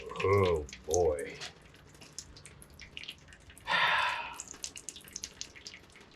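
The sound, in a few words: transmission fluid draining from 1968 Pontiac ambulance into pan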